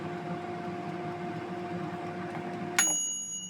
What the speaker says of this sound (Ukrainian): Чуємо, як буде вентилятор.